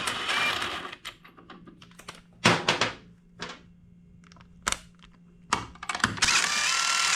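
A power tool whirs in short bursts while undoing the center bolt during a shock absorber rebuild with a compressor tool, giving intermittent close ratcheting rattles separated by quiet pauses and a longer burst at the end.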